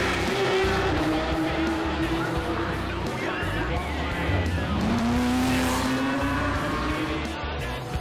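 Porsche GT3 Cup race cars roar around the street circuit at Honda Indy Toronto, their engines howling loud and sustained with pitch rising and falling as cars pass close by.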